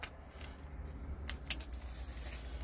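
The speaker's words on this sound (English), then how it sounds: "So I'm just going to cut that down to size now" Scissors snip Gear Aid Tenacious Tape down to size, a few faint close cuts, including one crisp snip, over a quiet room.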